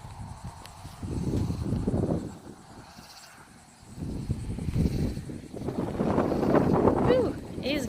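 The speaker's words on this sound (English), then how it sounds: "Whew, it is getting windy." A strong north wind on a Texas farm gusts and buffets the microphone in rough, uneven surges, rumbling loud and low with brief lulls between the blasts.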